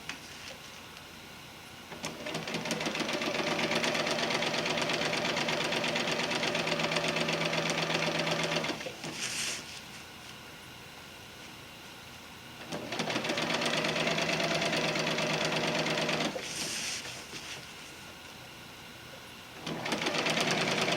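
A sewing machine stitches the battens of an underquilt's outer cover in two long, steady runs, each stopped by a short pause and a brief rattle of the fabric being repositioned.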